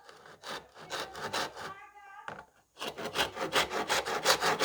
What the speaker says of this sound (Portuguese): e vai serrando devagarinho